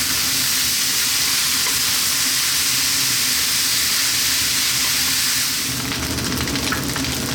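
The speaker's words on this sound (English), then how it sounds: "That's the rice frying." Cauliflower rice fries over high heat in a pan, a loud, steady, close sizzle with a dense hiss that runs throughout and grows crackly toward the end.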